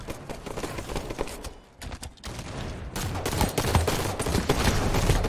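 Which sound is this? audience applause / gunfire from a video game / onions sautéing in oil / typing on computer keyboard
gunfire from a video game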